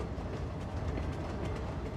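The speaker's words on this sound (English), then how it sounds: "Hello, loud trains?" Loud trains rumble past in the city-building game Cities: Skylines 2, a steady dense roar with a rhythmic clickety-clack of wheels over rails, continuous and close, with no talking.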